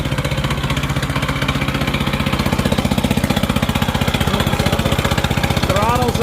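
A small Honda engine runs steadily after a pull-cord start, a loud, even low-pitched putter with rapid regular firing pulses throughout, and a faint rising whine near the end.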